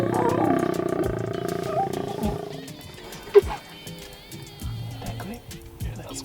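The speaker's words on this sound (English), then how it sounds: "he's making like a loud roar, a loud little noise" A wild animal on a Tanzanian safari roars near a jeep, a loud, deep, rumbling call up close that fades into quieter rumbles, with a sharp knock and some scattered background noise.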